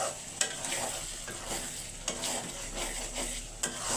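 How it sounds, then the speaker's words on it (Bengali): Masala fries in a pan on a home stove with a constant close sizzle. Repeated scraping strokes from stirring come every half second or so. "এই তো মশলাটা আমি অনেকক্ষণ ধরে কষাইছি"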